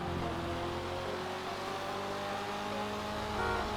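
A sports car engine in GTA 5, a modded Euros X32, hums and rises steadily as it accelerates, a smooth continuous roar with no talking.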